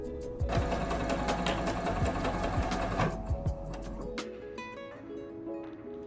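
A sewing machine runs continuously at close range, its fast mechanical whir holding steady for about four seconds before stopping, then quieter clicks and tones follow.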